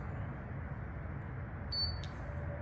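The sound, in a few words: key fob beeping during alarm enrollment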